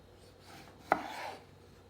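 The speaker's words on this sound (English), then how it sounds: "So just cut the tomatoes in half" A knife slices through cherry tomatoes, cutting them in half: one crisp close cut on a board with a short soft rub after it, otherwise quiet.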